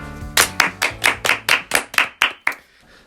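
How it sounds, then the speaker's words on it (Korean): About ten sharp, evenly spaced claps from a few people, close and crisp, following a short low sound at the start and ending in quiet. "박수!"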